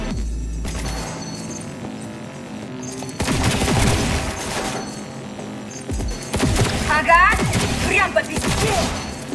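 Bursts of gunfire in Cyberpunk 2077, loud clusters of shots separated by quieter gaps, with crashing impacts amid the firefight.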